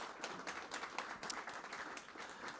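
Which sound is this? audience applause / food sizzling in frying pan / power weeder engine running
audience applause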